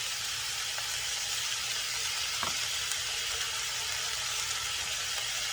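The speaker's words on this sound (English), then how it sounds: "And the beef still pink right now while your frying pan is still hot." Steady sizzling of beef stir-frying in a hot pan, a broad continuous hiss with a brief scrape of stirring midway, no voices.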